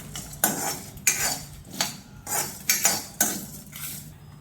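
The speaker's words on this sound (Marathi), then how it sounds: "आता हे सर्व मी खडे मसाले टाकलेले आहेत हे थोडेसे आपल्याला हलकेसे आपल्याला थोडे भाजून घ्यायचे आहे" Whole spices being tossed and roasted in a metal pan, a run of about eight sharp scraping clatters at a loose, regular rhythm, close and moderately loud.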